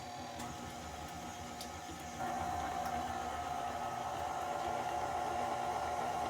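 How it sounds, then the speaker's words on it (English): An electric mixer beating room-temperature eggs into pound cake batter, a faint steady whir that steps up to a louder, higher whine partway through and holds there. "And we're going to give that a little mix."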